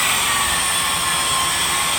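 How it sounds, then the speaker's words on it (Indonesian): Polishing machine whirring on the faded, dull paint of a Toyota Avanza hood, a steady high-pitched continuous whine, close and loud with no pauses. "ini kita mulai untuk proses polishingnya. Jadi kita mulai dari kap mesin ya."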